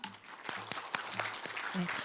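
Forum audience giving brief applause after a presentation, a short patter of scattered claps at low level with faint murmuring underneath.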